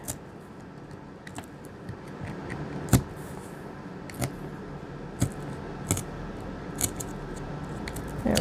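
Scissors snip through corrugated cardboard for a mixed media background, giving sharp, irregular cuts spaced a second or so apart over a low, steady rustle, close and fairly quiet, with no talking.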